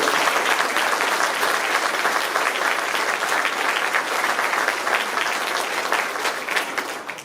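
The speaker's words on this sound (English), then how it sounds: "how about a round of applause for the candidates for talking" Sustained audience applause for the candidates at a 2018 all-candidates meeting in Iroquois, South Dundas, with dense, even clapping from a crowd holding steady for about seven seconds before tapering off.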